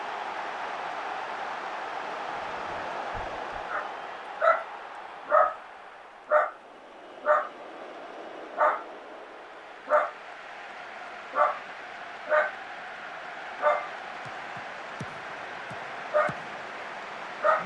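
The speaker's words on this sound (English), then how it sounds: "And the dog is so stupid, it's just going to bark." An indoor dog barks repeatedly after something is pushed through the letterbox, giving about a dozen sharp, evenly spaced barks at moderate distance over a steady background hum.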